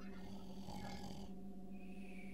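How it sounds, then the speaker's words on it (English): Steady, droning snoring with a low rumbling texture, continuous and fairly close, masked under a layer of added processing and hum. "I tried adding a effect over that snoring"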